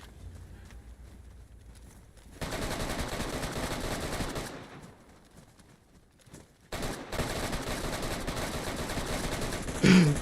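Sustained automatic gunfire in the video game DayZ arrives in two long bursts with a quieter gap between them. Heavy, loud and continuous shooting.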